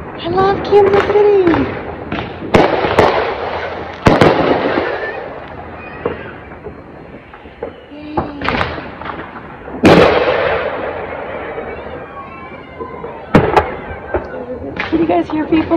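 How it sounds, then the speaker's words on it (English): Fireworks go off all around a back porch in Kansas City, with repeated sharp bangs and crackling bursts at irregular intervals while someone talks and exclaims between them. "They're all around me. Fireworks."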